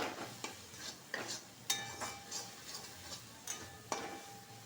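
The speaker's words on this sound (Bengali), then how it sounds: "মশলাটাকে একটু ভালো করে কষিয়ে নেব।" Ground red chilli, turmeric, cumin and coriander spices with tomato being stirred and fried in a pan for a potato curry, with soft scraping strokes and a faint sizzle recurring every second or so, close and alone.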